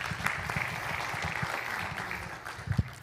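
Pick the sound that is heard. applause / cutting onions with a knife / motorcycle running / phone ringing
applause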